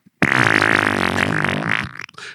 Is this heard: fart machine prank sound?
yes